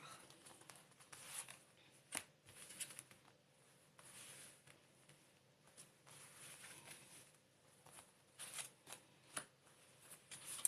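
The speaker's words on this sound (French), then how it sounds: "je vais tirer 5 cartes" Five tarot cards being drawn from a deck, faint close-up shuffling, sliding and flicking of cards in scattered soft bursts with quiet pauses between, no talking.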